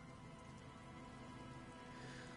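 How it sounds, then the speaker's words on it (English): In the Disco Elysium video game, rain drips steadily from the mesh of a trap, forming a continuous, even patter close by with no other sounds. "Rain drips from the mesh of the trap."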